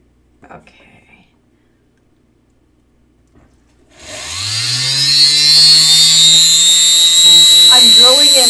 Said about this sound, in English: I'm drilling in the lid of a ice cream container because it's nice and shallow and gives me just enough water.